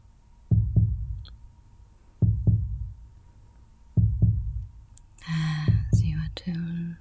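Deep paired heartbeat thumps repeat at a slow, steady pulse, three lub-dub beats close and soft, followed by brighter tonal sounds layered over the last beats.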